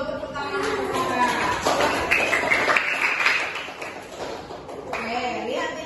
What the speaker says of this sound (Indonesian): tepuk tangan untuk Sarah